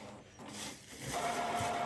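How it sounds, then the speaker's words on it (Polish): A Brother DCP-J100 inkjet printer runs its print head cleaning cycle, a faint mechanical whirring and buzzing with a thin steady tone, close by and without talk. "Na chwilę drukarka sobie wyczyści głowicę i zapyta, czy wydrukować test"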